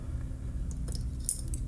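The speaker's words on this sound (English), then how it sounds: "Pop the keys on" Metal keys jangle faintly as they are slid onto the post of a carbon fiber key holder, a few light clinks and rattles standing out over a low steady background hum.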